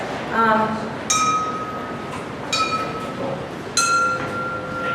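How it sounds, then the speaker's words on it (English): Three glass tubes of equal length and 28 mm diameter, one borosilicate, one lead glass and one quartz, struck one after another, each giving a bright ringing ping with a long sustained tone. "So this is borosilicate, this is lead glass, and this is quartz."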